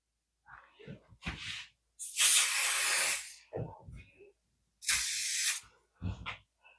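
Bursts of spray from a can hiss over a pan of imperial devil's food brownies during baking, two long loud sprays with shorter puffs and handling sounds between them.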